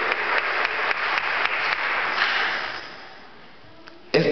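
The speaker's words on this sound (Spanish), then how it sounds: "Dale el aplauso al Señor" A church congregation applauds together, a sustained wash of many clapping hands that swells, then fades away before a sharp burst at the very end.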